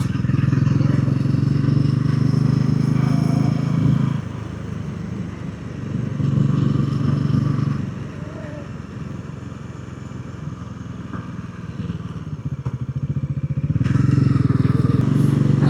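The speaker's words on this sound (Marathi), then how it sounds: "पुढे मामा बाईक घेऊन चाललाय, मागे त्याचे बाबा बाईक चालवत आहेत" Motorcycles riding along the NH66 road towards Dapoli, engines droning steadily with a low throbbing hum that swells and fades as they pass, close and loud with faint talk in the background.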